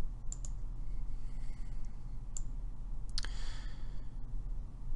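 Computer mouse clicks in a quiet room, a handful of sharp, isolated taps spaced across the moment, the loudest pair close together near the end, over a faint steady hum.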